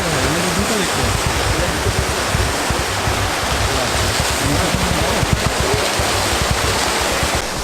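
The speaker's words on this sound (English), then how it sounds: "This place is called the Seven Sister Waterfalls, by the way." Seven Sister Waterfalls, a roadside waterfall on the way from Gangtok to Lachen, roars in a steady, dense, loud rush of falling water that continues unbroken throughout, with no voices.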